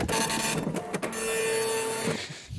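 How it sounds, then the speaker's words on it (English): A printer sound effect: close mechanical whirring and buzzing with tonal motor hum, broken by a few sharp clicks and brief stops, heard alone with no talk. "Blake, can you hit the old printer sound effect?"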